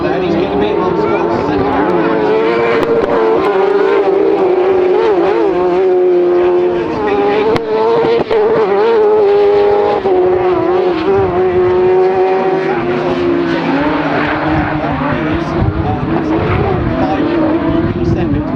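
Rallycross race cars at Silverstone in round 1 of the 2019 British RallyCross championship, with a loud continuous engine roar rising and falling in pitch through revs and gear changes, under constant race commentary.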